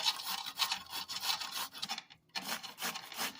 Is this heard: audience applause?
no